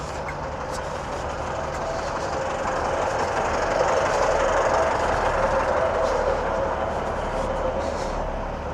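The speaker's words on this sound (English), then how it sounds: "1912 Scotrail Class 156 service from Carlisle to Dumfries and Glasgow Central." Inside a carriage of a moving Scotrail Class 156 diesel train on the Settle–Carlisle line, a steady loud rumble with faint rhythmic wheel clatter builds slightly midway, no voices.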